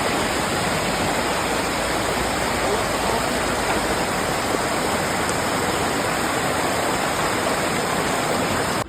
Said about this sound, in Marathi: मस्तपैकी धबधबा आहे मोठ्याच्या मोठा